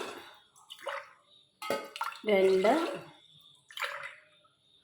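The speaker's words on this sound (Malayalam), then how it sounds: "ഇനി ഇതാ കറക്റ്റ് വെള്ളം ഒഴിക്കണം" Water pours in a few separate splashy bursts into a pressure cooker holding washed rice, close up, with a voice speaking briefly between pours.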